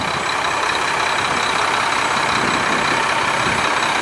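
A 2010 Mack Pinnacle CHU613 truck with an MP8 485-horsepower engine and 398,000 miles runs in a loud, steady, continuous rumble heard close up, with no voices.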